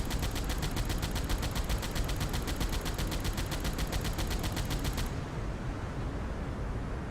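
A U-boat's anti-aircraft gun fires in a steady, fast, rhythmic stream of shots for about five seconds and then stops, leaving engine and sea rumble underneath in this naval video game.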